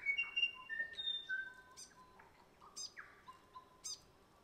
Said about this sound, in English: that's a bell bird, that sound.